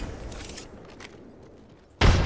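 A frag grenade detonates in Apex Legends, a sudden loud broadband boom that hits near the end after a stretch of quieter game ambience and scattered distant shots.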